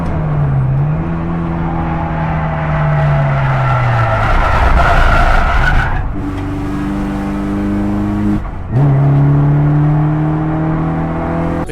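Low-powered BMW race cars battling at Donington Park, heard onboard: a loud engine drone rising and falling through gear changes, with tyre scrub and a sharp shift break near the end.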